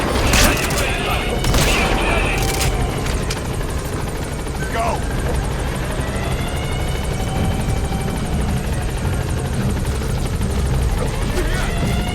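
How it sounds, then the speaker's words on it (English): Support helicopter arriving in Metal Gear Solid V, a steady close rotor drone holding throughout with bursts of gunfire early on and a voice talking over it. "Support helicopter has arrived."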